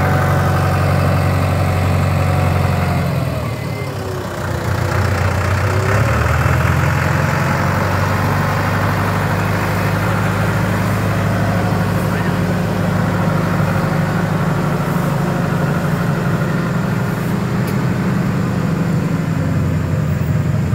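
A tractor engine runs loud and close at a steady idle, its low rumbling drone continuing without a break for about twenty seconds beside a pile of timber.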